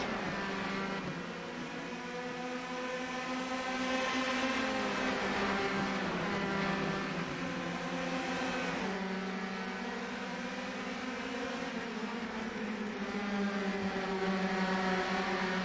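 Race cars in a chain of six on a track in an Austrian Grand Prix racing game, their layered engine notes droning and swelling together, loud and continuous with overlapping pitches rising and falling.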